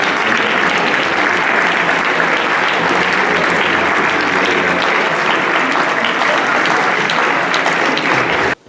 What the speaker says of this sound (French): je vous prie de faire un tonnerre d'applaudissements pour Bilal Latouche